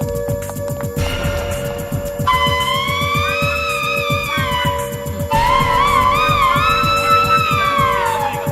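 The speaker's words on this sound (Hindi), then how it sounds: "एक्चुअली बॉक्स के ऊपर फायर अलार्म लिखा है।" An electronic fire alarm after its button is pressed, giving wavering, siren-like wailing tones that rise and fall in loud repeated sweeps over a pulsing background, continuous throughout.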